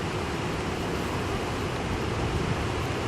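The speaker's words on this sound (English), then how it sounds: "Waterfall still up, flowing over top of it." Heavy floodwater pours over a waterfall carrying chunks of ice, a steady, dense roar that fills the clip evenly from start to finish, loud and close with no speech.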